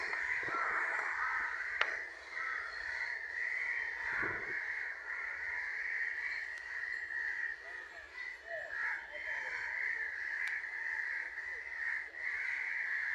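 Many crows caw together in a dense, continuous chorus, with overlapping harsh calls filling the whole stretch at steady loudness and no clear pauses.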